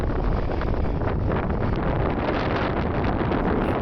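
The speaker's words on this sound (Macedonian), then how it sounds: "На силен ветер." Strong wind on the summit of Ljuboten in the Šar Mountains buffets the microphone in a constant loud roar, steady and unbroken throughout.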